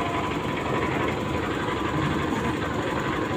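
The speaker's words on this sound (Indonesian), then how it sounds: "Itu ngidupin genset karena ini hari sudah sore ya" A generator runs at a boat dock in Muncar in the late afternoon, giving a steady, unbroken engine drone that stays at an even, fairly loud level throughout, with no voices over it.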